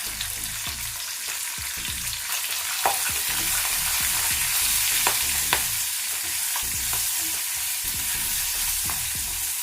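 Chopped green chillies and a couple of dried red chillies sizzle in hot oil with turmeric in a pan, making a steady loud crackle with occasional spatter pops and a spoon stirring, and no voices.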